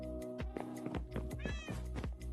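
Minecraft cat meowing several times in a row, short harmonic mews with a steady game hum underneath, close and clear.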